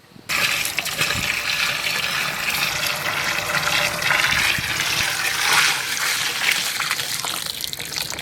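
Coconut milk pours steadily into a simmering fish curry in a village kitchen, a continuous close liquid splash and gurgle lasting several seconds.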